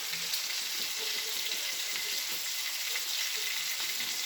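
Sausage and potatoes fry in a pan with butter, a steady close sizzle and crackle running evenly throughout with no voices.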